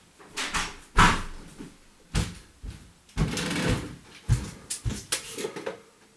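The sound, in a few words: closing a door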